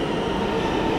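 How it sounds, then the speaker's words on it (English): A New York City subway F train pulling into a station, a steady loud rumble of wheels and motors with a dense rail roar, close and continuous. "And look at that, it came right away. It's an F train."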